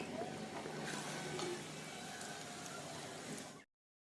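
Green chillies fry lightly in hot oil as a garnish for street-style crispy gobi pakoda, making a steady, fairly soft sizzle that cuts off abruptly near the end.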